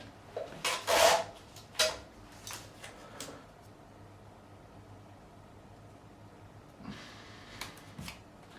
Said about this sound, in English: So let's get it taped up, let's do it right.